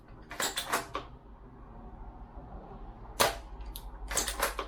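MSR airsoft sniper rifle fitted with a metal cylinder kit, fired outdoors at a pole about 20 meters away, giving sharp snapping shots, one early and two more near the end, over faint background noise.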